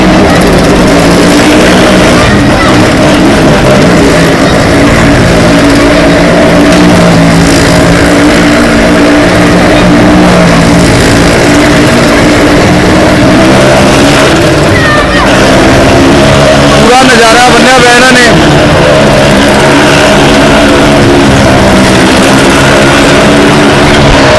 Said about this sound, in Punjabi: ਬਾਈਕ ਤੇ ਕੰਧ ਤੇ ਚਲਾ ਰਹੇ ਨੇ